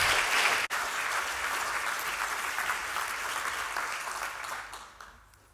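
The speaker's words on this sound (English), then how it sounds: "Would you give her a huge round of applause for this song?" An audience applauds after a song at a Shelter Scotland event, steady full-room clapping that holds strongly and then tapers off toward the end.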